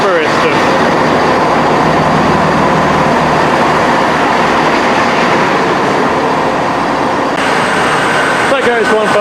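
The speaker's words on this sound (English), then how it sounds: "This train terminates here" A Class 158 diesel multiple unit train rumbles steadily close by at a station, with a constant engine drone and faint rail clatter, ending with a few squeaks and clicks.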